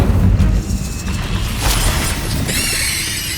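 Incendio fire spell going off in the Hogwarts Legacy video game, a loud booming burst followed by crackling, shattering debris and a whooshing tail, with no voices over it.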